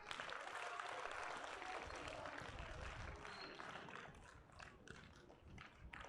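An audience claps at a lower primary school prize giving, a dense burst of applause that starts full and slowly thins toward the end.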